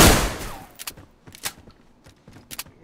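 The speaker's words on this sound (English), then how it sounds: "That's me shooting at him." Gunshots in the game DayZ: a loud opening blast decays, followed by a string of separate sharp shots at irregular intervals, some paired, across an outdoor firefight, with no talk over them.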